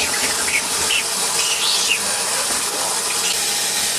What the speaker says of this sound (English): I usually like washing my vegetables with cold water